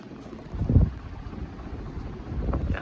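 An Emerson HF948 48-inch industrial heat ceiling fan, with one blade slightly out of balance, runs on high: a steady, fairly quiet airy whoosh with soft rumbling surges rising and falling.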